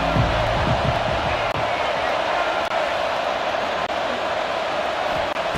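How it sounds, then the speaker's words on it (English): Steady roar of a packed stadium crowd at a college football game in College Football 26, a dense, unbroken wash of cheering and noise held at constant loudness throughout. "This crowd ready to make its presence known."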